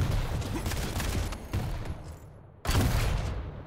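Lightning gun fire in a fast arena shooter duel: a continuous, crackling stream of rapid shots with a brief pause before the beam resumes, loud and close.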